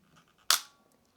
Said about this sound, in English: once we open the shutter by pressing our shutter button on the camera, the shutter will pop open